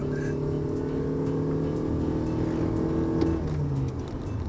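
Toyota Kijang Innova accelerating hard through a turn with the throttle floored, its engine droning loudly and steadily from inside the cabin, pitch holding then easing off near the end.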